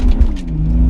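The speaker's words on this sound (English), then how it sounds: "this one, you can sort of blip, and it is so fast, like a petrol engine" A diesel engine in a BMW E46 330 hums at steady idle, a deep continuous rumble close by with a slight rise in pitch, no voices.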